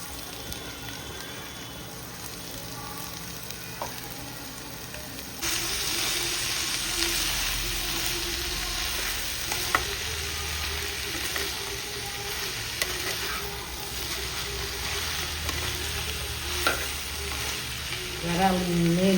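Flaked boiled snakehead fish puttu is stir-fried in masala in a pan, giving a steady close sizzle with scraping stirs that grows louder partway through, without talk.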